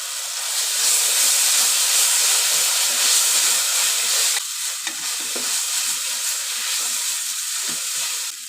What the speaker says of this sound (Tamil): இஞ்சி பூண்டு பேஸ்ட்டு நல்லா வதக்கியாச்சு